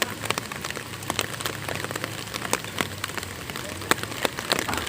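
Rain falls outdoors, heard as dense, irregular patter with sharp individual drop clicks against a steady low hiss throughout.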